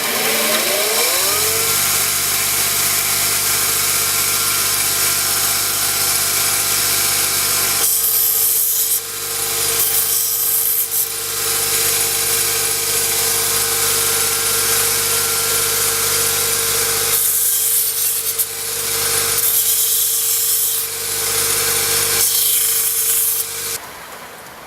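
A power grinder cuts a saber grind into a knife blade, a loud continuous whirring hum with steady harmonic whine, broken by several bursts of bright grinding hiss as the steel meets the belt.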